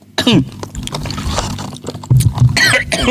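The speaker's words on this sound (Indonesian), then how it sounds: "Aduh, batuk terus" A man coughs repeatedly while giving a religious talk, with several harsh, close bursts scattered among his speech and a louder cluster near the end.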